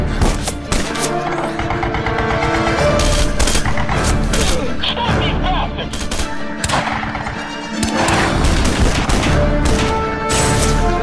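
Loud bursts of gunfire and heavy impacts from Red Faction Guerrilla fill a dense, chaotic game soundscape, with shots stacking over music and effects throughout.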